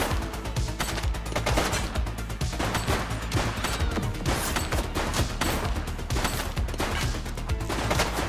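Dense, continuous gunfire from a shootout in The Precinct, a police video game, with rapid overlapping shots and crashes that stay loud and close throughout.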